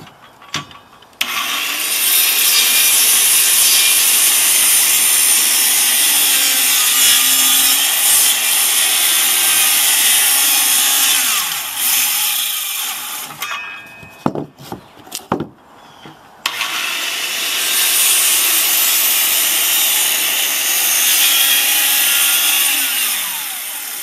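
A saw notches wooden stair stringers for a deck built onto a large shed, a loud, steady rasping cut running about twelve seconds, breaking for a few clunks and knocks, then resuming for another long stretch. No one speaks.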